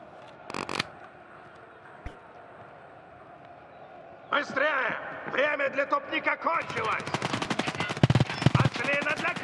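Gunfire in Escape From Tarkov Arena, a sharp shot near the start then rapid bursts of automatic fire in the second half, heard under German-speaking players talking.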